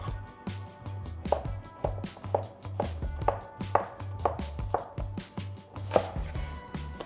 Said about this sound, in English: I'm quartering 2 zucchini.